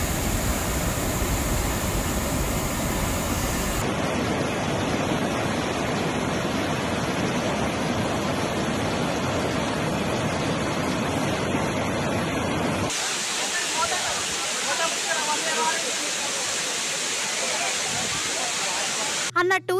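Flood-swollen Bogatha and Vennela waterfalls in Telangana rush after heavy rain, a loud, continuous broadband roar of falling water heard across several shots with abrupt cuts between them.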